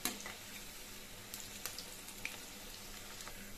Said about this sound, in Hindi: अब मैंने गोल्डन ब्राउन होने तक अच्छे से फ्राई करेंगे।